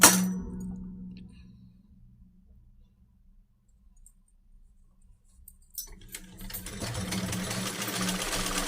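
Sewing machine stitching the hem of a salwar, running in slow steady bursts with a low motor hum after a sharp clang, growing louder near the end.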